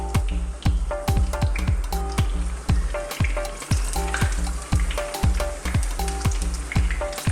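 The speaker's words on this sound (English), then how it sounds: "we're just gonna fry them all off" Aubergine slices fry in hot sunflower oil in a pan, a dense steady sizzle broken by regular stirring or turning clatters, close and loud with no talk.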